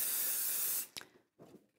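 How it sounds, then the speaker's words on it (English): Adhesive spray hisses onto the back of a plastic quilting template in one loud, steady burst of nearly a second, then cuts off, followed by a short tap and some faint rustling. "But when you put your spray on the back of it,"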